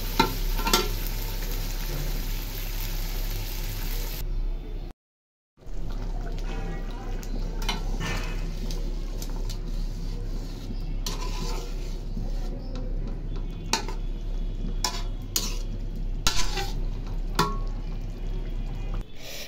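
Spicy chicken curry being stir-fried in a pan, a continuous close sizzle and frying crackle with stirring scrapes, briefly cutting out for a moment early on before resuming steadily.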